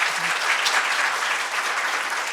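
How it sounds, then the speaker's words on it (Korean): Sustained audience applause fills a symposium hall on healthy ageing, a dense, steady wash of many hands clapping at once without any voices. "그 좌장 및 내빈 선생님들께 박수 한번 다시 드리겠습니다"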